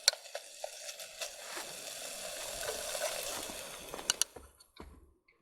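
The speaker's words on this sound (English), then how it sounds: "Let it sizzle a little more," Miso chili ramen mix sizzles quietly in a pot on a camp stove outdoors on a snowy Alaskan mountain, a soft hiss with a few sharp crackles and pops.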